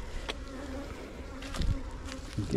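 Agitated honeybees buzz loudly and continuously around a disturbed hive after smoking, a dense droning swarm close by with sharper swells as individual bees pass near.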